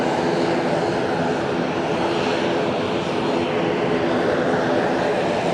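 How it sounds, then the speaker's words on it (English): ATR turboprop airliner at Fukuoka airport, a steady, continuous engine and propeller drone heard at moderate distance with an even level throughout, with faint voices present. "Look, it's an ATR."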